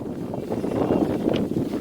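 Strong wind blows outdoors and buffets the microphone, making a continuous loud rumbling roar that surges slightly over the short stretch.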